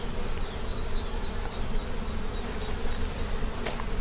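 Honey bees crawling over a honeycomb frame with capped honey, stored feed and pollen, producing a dense, continuous close buzzing of many insects that stays steady throughout.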